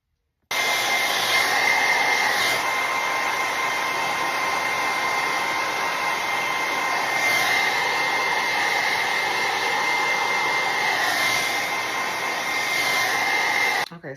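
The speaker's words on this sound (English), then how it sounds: "And then we are going to blow dry." A hair dryer blows steadily on a lace wig during a wig install, a loud, continuous whooshing hum held for over ten seconds with only slight shifts in pitch.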